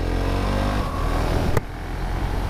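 Husqvarna Vitpilen 701 fitted with an official Akrapovic exhaust, a steady close engine drone at cruising speed that dips briefly in the middle before holding on again.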